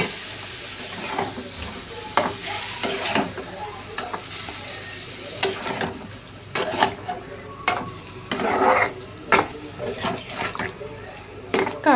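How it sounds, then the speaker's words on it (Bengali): Heated water poured into a pan of frying vegetarian jackfruit curry, with a steady sizzle, stirring scrapes and sharp bursts as the liquid hits hot oil. "এবার আমি গরম করে রাখা জলটা দিয়ে দিচ্ছি।"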